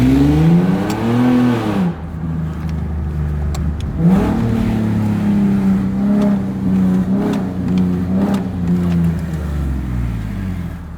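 A loud tuned Infiniti G37 accelerates hard in first gear, the close exhaust roaring and rising in pitch through several surging pulls with brief dips between them, and no talk over it.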